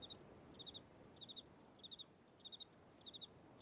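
Crickets chirp in quick repeating trills in the video game Riven, faint and steady against a soft outdoor ambience, with no voices.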